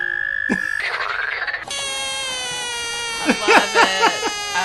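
Frogs call with loud, close croaks and trills, first a sustained whistling tone, then a bright buzzing chorus with a run of rhythmic pulsed croaks near the end.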